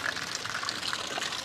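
Clear spring water gushes and splashes steadily in the Indang river, a close, continuous rushing flow with no voices.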